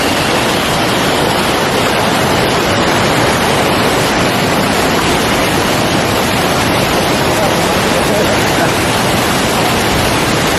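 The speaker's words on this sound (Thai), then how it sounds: "โอ้ น้ำตกเห็นไหมทุกคนน้ำตก" Khun Phra Wo waterfall near Mae Ramat in Tak, Thailand, gives a steady, loud broadband rush of falling water that stays unbroken and close throughout.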